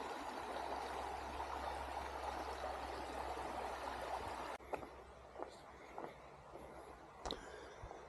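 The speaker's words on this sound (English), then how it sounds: "You can come and look at it and listen to the water." Steady rushing water of a creek beside a redwood forest campground at Prairie Creek, California, a continuous broadband wash for about four seconds, then quieter with a few soft knocks and rustles.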